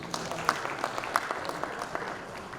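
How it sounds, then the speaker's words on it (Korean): Congratulatory applause at a Korean arts association awards ceremony, a thin, scattered patter of claps with a few sharper individual hits, fairly quiet and distant in a hall. "축하의 박수 해주시기 바랍니다."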